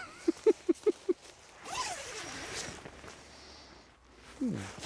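A tent zipper is pulled in several quick short tugs, then drawn in a longer slow rasp, with rustling fabric nearby.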